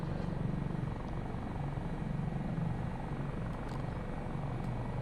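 A Taog's Hangar Dauphin twin-engine helicopter in a flight simulator drones with a steady, dense rotor and turbine hum, continuous and even throughout with no talking.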